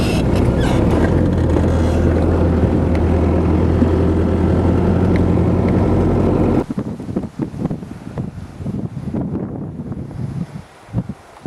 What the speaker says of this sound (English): Crossing some sort of a riverbed here, creek bed.